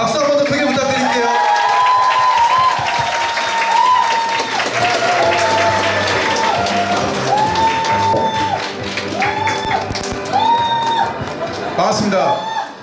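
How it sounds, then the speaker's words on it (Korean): Audience at a Korean company event claps loudly and continuously, with scattered cheers and whoops mixed in while a voice speaks over the crowd. "박수 한 번 더 크게 부탁드릴게요."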